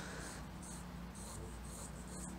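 A pencil sketching a bubble drawing on paper, soft scratchy strokes repeating in short rhythmic sweeps, close and quiet with no talk.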